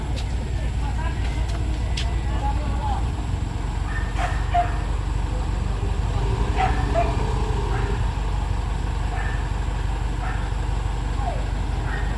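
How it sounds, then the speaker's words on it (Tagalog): A dog barks a few times at a distance from inside an office amid steady traffic rumble, with people talking nearby. "May aso dito tayo sa office."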